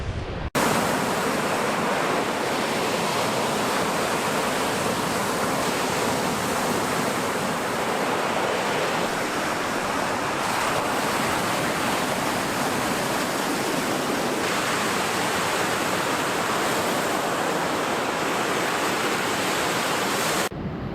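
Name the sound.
waves on Pebble Beach shore of the world's biggest lake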